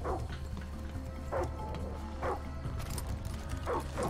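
Dog barks and yips in Far Cry 6, several short sharp calls spaced through the clip over a steady low game rumble, moderately loud and fairly close.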